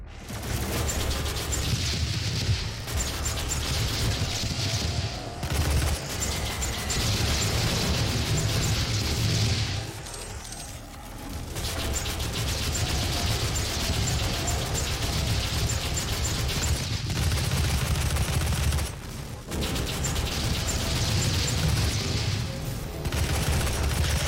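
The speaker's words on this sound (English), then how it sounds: "Go go double shotgun or super shotgun as it's called." Super shotgun, the double-barrelled shotgun in Doom, booming repeatedly amid dense, loud game combat noise, with heavy blasts every few seconds and brief pauses between volleys.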